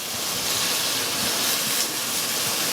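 Beef for stew sears in a hot pan, a dense, even sizzle that stays loud and close for the whole stretch with no voices over it.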